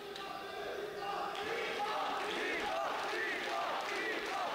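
Crowd at a boxing match in Plovdiv cheering and shouting support from the stands, a steady, fairly loud roar of many voices with rising calls throughout.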